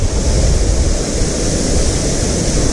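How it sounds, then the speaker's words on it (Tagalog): Tumagiti Falls in Bicol, a misting waterfall, roars as a loud, steady broadband wash with constant rushing and no breaks, heard up close with no voices. "kaya siya tinawag na Tumagiti Falls"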